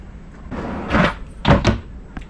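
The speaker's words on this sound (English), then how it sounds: "Soft close." RV cabinet door with a soft-close piston hinge, heard as a few soft thumps and a gentle shutting knock indoors at close range.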